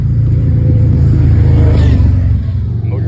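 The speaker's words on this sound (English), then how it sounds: "this loud ass car" A loud car or motorcycle goes by, its deep engine rumble droning steadily and heavily for a few seconds before easing slightly, close and dominant with no voices over it.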